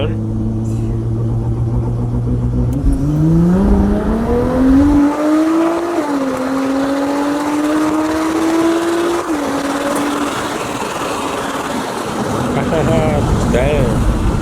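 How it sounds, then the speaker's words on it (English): A car accelerates hard from a rolling launch at a night car meet, its engine climbing steadily in pitch through the gears, loud and close, then fading as it pulls away, with crowd chatter underneath. "Rolling launch time."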